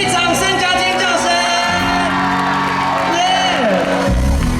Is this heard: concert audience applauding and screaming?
yes